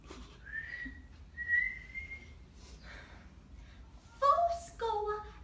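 A person whistles a few sustained, clear notes at close range in a quiet room, with breaths and a short vocal sound between phrases near the end.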